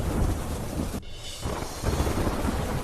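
Heavy downpour in the Dwarka area pours in a dense, roaring wash of rain with deep rumbling undertones, loud and continuous, briefly thinning for a moment before surging back.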